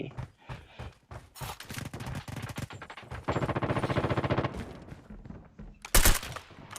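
In the mobile shooter Call of Duty Mobile, rapid bursts of automatic gunfire ring out, with one long sustained volley and a sharp loud burst near the end, while someone talks faintly in between.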